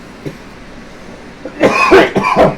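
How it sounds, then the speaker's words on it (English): A man coughs several times in a short burst of harsh, close coughs after a quiet pause, with no talking. "At one point, I'm coughing my guts out"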